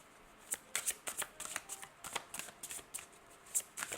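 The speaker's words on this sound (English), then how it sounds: "So we're going to pull some cards." Tarot cards being shuffled by hand, a quiet close-up run of crisp riffling and flicking bursts in an irregular rhythm, heard alone.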